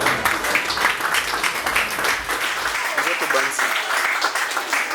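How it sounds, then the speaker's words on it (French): An audience at an evening show claps in sustained applause, with voices mixed into the noise. "Applaudissez, applaudissez."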